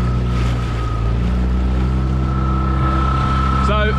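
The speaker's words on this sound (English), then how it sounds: "The bass boat heading out" A bass fishing boat heading out to sea, its engine a steady low drone mixed with wind and water noise, continuous and fairly loud throughout.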